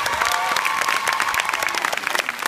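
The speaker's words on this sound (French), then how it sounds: "On peut l'applaudir également." Theatre audience applauding at a cinema premiere: a dense, steady burst of many hands clapping, loud and continuous, with crowd murmur underneath.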